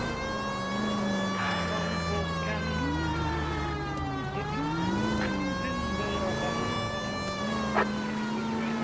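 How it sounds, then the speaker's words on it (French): A police car siren from the L.A. Noire video game wails steadily, its tone sweeping up and down in a continuous, moderately loud cycle, alone for the whole stretch. "la sirène, c'est pas forcément hyper agréable."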